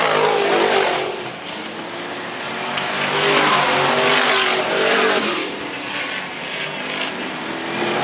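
Stock cars racing at Arlington Stadium, engines roaring loudly and continuously as the cars pass close, the pitch and volume swelling and easing as they circle the track.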